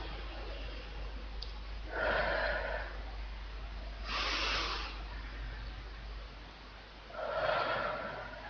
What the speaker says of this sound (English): So breathing in from the diaphragm,